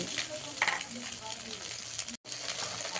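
An egg fries in a pan for chow mein, giving a steady close sizzle and crackle throughout with a brief stir or scrape near the start and a momentary dropout before the frying resumes.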